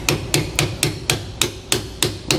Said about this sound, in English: we're going to tap it with a hammer to drive that all the way through